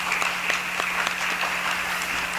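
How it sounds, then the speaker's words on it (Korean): A church congregation applauds, many hands clapping in a brisk, steady patter with individual claps standing out, moderately loud and continuous over a faint low hum. "우리 하나님께 좀 감사와 영광의 박수를 좀 올려드리겠습니다"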